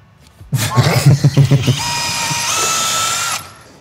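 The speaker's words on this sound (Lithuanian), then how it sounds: "Tai dabar jau sienų grėžims" A power drill bores into an apartment wall in Kaunas. It starts with a loud, rattling burst of rapid knocks, then settles into a steady, high whining drone that stops abruptly.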